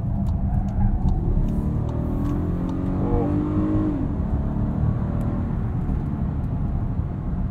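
A 2021 Volkswagen Atlas Cross Sport SEL Premium SUV with a V6, in sport mode, pulls hard up an entrance ramp; a steady, loud engine drone and road rumble build and rise in pitch throughout, with no talking.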